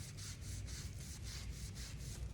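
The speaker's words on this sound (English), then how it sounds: "I do try and put a good number of pressure down on my sponge so I can really push it into the grain" A sponge is pressed hard and rubbed back and forth, working a wax finish into the grain of a birch board, making a steady, close, repeated scrubbing swish with no talk.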